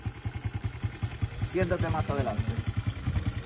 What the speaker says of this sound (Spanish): vamos a arrancar la moto y vamos a practicarlo con el motor y la marcha metida